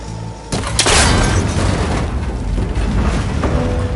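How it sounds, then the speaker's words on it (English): A gunshot and heavy impact as a cable connector breaks in Horizon Forbidden West: a sudden loud boom about half a second in, followed by a crackling, rumbling decay that lingers under a steady background wash. "That connector's holding the cables together. It should break if I shoot it."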